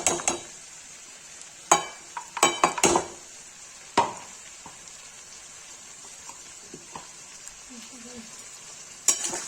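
A soft, continuous sizzle of ground onion and garlic paste frying with red chilli in a pan, broken by sharp metallic clinks and scrapes of a spoon stirring, close by.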